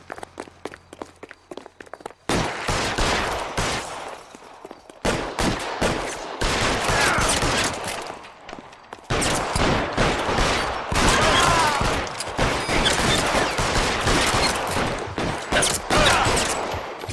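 Gunfire from the LA Noire video game comes in dense, loud volleys of rapid shots that repeat over several seconds, with short pauses between bursts and faint footstep-like taps early on.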